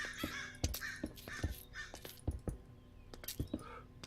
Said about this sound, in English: God, they were crows.